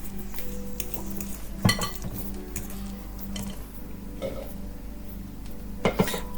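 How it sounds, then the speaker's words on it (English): Ripe macamboo bananas are mashed with a fork in a bowl, heard as soft squelching pressure punctuated by a few sharp metallic clinks of the fork against the bowl, close and with no talking. "either mash with a fork like I'm doing"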